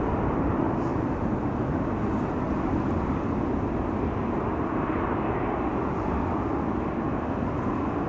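Suriname Airways Airbus A340-600, a four-engine widebody at Amsterdam Schiphol, produces a steady, dense low rumble of jet engines at medium distance, unbroken for several seconds.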